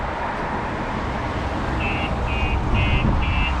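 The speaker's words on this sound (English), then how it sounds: "as you can hear, the alarm is going off" A StarLine S9 aftermarket alarm sounding on a 2021 VW ID.3 electric car, four short high electronic beeps in an even rhythm starting partway through, over steady background noise.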